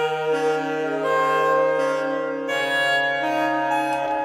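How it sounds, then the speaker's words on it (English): A saxophone plays a song melody with sustained, rich harmonic notes and a clear pitch change midway, loud and close over a steady backing. "And then I put the same melody over the saxophone,"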